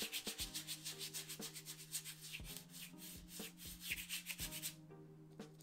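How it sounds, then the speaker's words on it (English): A brush scrubs paint back and forth over a canvas surface during abstract painting, making a steady run of close, rhythmic rubbing strokes with a faint low hum underneath. "I'm just sort of scrubbing over the surface."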